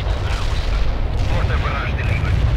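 Rumbling mortar barrage explosions roll continuously in the World in Conflict video game, a dense low boom-filled battlefield din with faint voices mixed into the noise.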